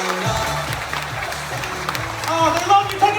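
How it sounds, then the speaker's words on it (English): Audience applause for Rita at a Carnival Spirit magic and comedy show, a steady wash of clapping from a crowd with music-like tones beneath and a host's voice speaking over it. "give Rita a big round of applause"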